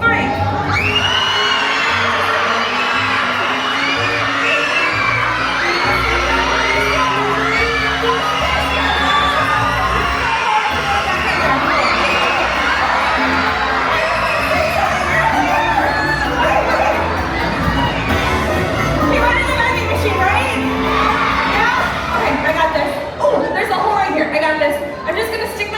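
At a SeaWorld Orlando show, a large crowd of children and adults screams on cue, a loud, sustained burst of shrieks and whoops that fills the space, with some voices and chatter mixed in.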